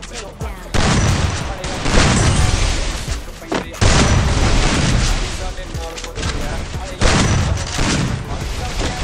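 Rapid gunfire and bursts of shots from Garena Free Fire gameplay, loud and dense throughout with booming impacts, while a voice talks over the action.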